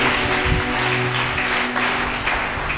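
A church congregation claps together in praise, a steady wash of many hands applauding throughout, fairly loud and close, with a low hum underneath.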